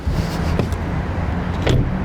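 A BMW 525 xDrive car window closes quickly, with a short motorized whir running over low engine and road rumble. No one speaks.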